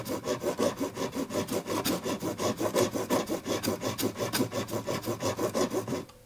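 Japanese fret saw cutting through a stubborn epoxy glue joint, giving a steady, close rasping stroke roughly five times a second, back and forth without pause, with no voices.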